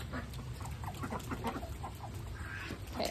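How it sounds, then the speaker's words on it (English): Several chickens cluck in short, rapid bursts close by on a rainy farm, with quick overlapping calls above a steady wash of rain and background noise. "I don't know why the chickens are following me."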